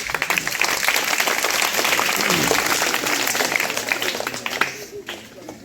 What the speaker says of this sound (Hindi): आइए आइए जोरदार ताली भाई